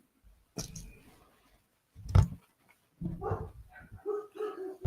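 Dogs nearby let out a few short barks and yips, then softer whimpering whines, in scattered bursts with pauses between.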